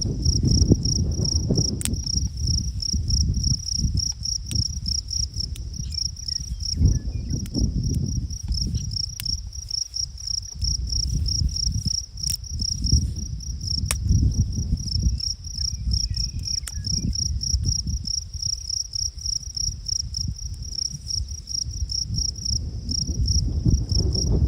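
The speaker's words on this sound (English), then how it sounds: "Those crickets are so loud" Loud, relentless cricket chirping pulses in a fast, even rhythm over a low rumbling background, close by and continuous.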